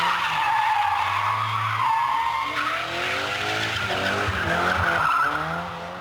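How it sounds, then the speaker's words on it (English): A Toyota AE86 Sprinter with a Japanese twin-cam 1600 non-turbo engine, custom suspension and a TRD limited-slip differential skids hard, its tires squealing loudly and continuously beside a droning engine. "It's a Toyota AE86 Sprinter, or Hachi."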